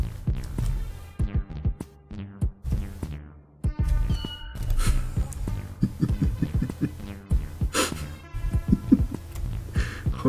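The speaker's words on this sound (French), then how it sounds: "La musique du petit chat" A little cat-themed tune plays with repeated plucky musical notes and cat meows woven through it, lively and moderately loud, with no talking.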